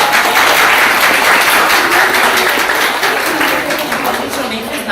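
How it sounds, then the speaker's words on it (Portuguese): Sustained audience applause fills a room at a Brazilian LGBT discussion event, dense and steady for the whole stretch, fading slightly toward the end. "A gente não nem fez nada, não precisa aplaudir."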